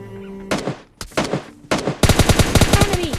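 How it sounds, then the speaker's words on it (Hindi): Rapid gunfire from a PUBG Mobile Lite match, with short bursts of automatic rifle shots followed by a long, dense string of loud, closely spaced shots near the listener. "वो मेरे पे फायर करता है तो मैं उसको मारता हूँ।"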